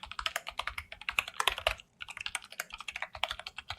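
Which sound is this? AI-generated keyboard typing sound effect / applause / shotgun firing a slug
AI-generated keyboard typing sound effect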